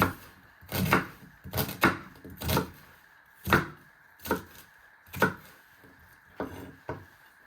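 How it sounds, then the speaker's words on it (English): Knife chopping food into small pieces on a cutting board, about ten sharp, distinct knocks at uneven intervals, close and fairly loud over a faint steady hum, with no talk. "you turn them around and you're just slicing them into little pieces"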